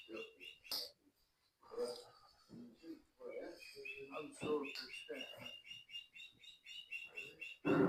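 Repeated high, bright bird chirps in quick succession, fairly close, mixed with talking voices and some laughter-like bursts.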